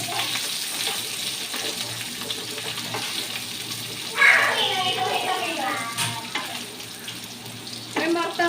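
Chicken pieces for butter chicken fry in oil in a pan, a steady hiss and crackle running throughout with brief louder bursts as the pieces are stirred, while a person talks over it.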